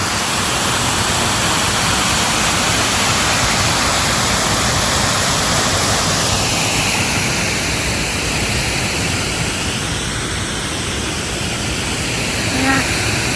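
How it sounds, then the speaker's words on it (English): Broad, steady roar of a waterfall heard from above the falls, loud and continuous with no break across the whole stretch. "This is up above the other waterfall."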